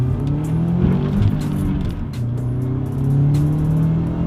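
An all-wheel-drive turbocharged German car running on 19 pounds of boost, its engine producing a steady low drone that rises and dips as it drives, close and continuous with no talk over it.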